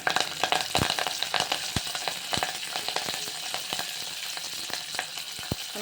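Curry leaves frying in hot oil for a potato curry, a steady close sizzle with sharp crackling pops spread throughout, no voices over it.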